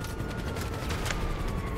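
Video game gunfire with smoke and explosions, a dense continuous rattle of shots and blasts filling the whole moment without any talking.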